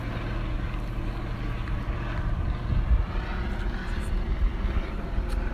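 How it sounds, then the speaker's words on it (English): A Sacramento police helicopter circles overhead during a shooting standoff in North Sacramento, its rotor making a steady, muffled low drone with a faint rhythmic chop that stays at a constant distance. "You can see the Sacramento police helicopter circling overhead."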